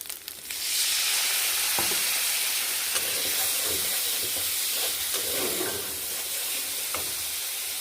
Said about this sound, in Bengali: একটু জল দিয়ে কষবো